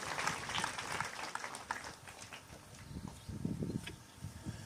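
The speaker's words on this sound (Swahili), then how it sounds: "Si tuwachapie makofi mazuri." A crowd claps throughout at a memorial gathering, a dense and fairly faint patter that keeps going steadily from start to finish.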